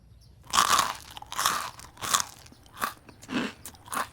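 Crisp green-fleshed Greenness melon from an organic farm is bitten and chewed up close, giving five loud, wet crunches spaced evenly with short pauses between.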